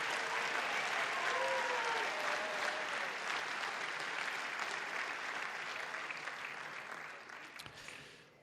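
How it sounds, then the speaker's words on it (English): Steady audience applause at a senior athletic banquet, dense and even for several seconds before slowly fading out near the end. "Let's have a round of applause for those individuals."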